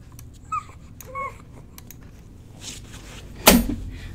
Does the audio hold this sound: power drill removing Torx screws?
no